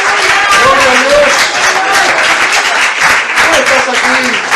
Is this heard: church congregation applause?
yes